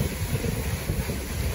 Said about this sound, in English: It's cool. It's windy.